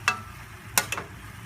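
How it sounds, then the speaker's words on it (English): A spoon stirs a turkey and vegetable mixture in a pan, making a few brief scraping strokes over a faint background sizzle, with quiet gaps between the strokes. "And go ahead and stir that together"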